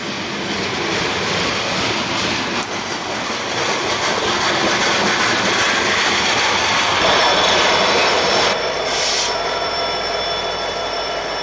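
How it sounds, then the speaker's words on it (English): Heavy Norfolk Southern freight train climbing toward Gallitzin with two SD70ACU helper locomotives, a loud, continuous roar of engines and rolling cars that holds steady throughout with no voices. "Today's 63V is heavy enough to warrant the use of 2 SD70 ACU helper locomotives."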